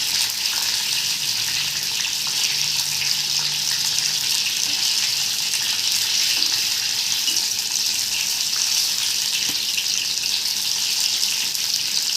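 Steady broadband sizzle of apple crisp pieces frying until golden in oil over medium heat, a continuous hiss with no breaks and no talking.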